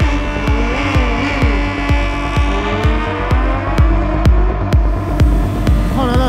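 Honda CBR 1000 RR-R SP sport motorcycle doing a launch start, its engine roaring loud and close with a strong steady drone, sharp rhythmic pulses and rising whine as it accelerates.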